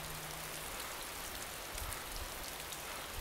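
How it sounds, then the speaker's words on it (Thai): Steady rain pours in the DayZ video game, a dense, even hiss of drops filling the whole stretch with no voices over it. "ตอนนี้ฝนตกอยู่ออกไปไม่ได้"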